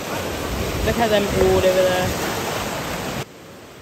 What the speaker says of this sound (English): Guys, look at the waves.